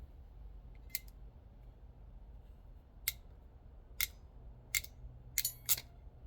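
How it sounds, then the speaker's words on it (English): A ratcheting, locking wire crimper that doubles as a stripper clicks sharply six times against a quiet background, in scattered single snaps with a quick double click near the end. "It's like a ratcheting, locking crimp."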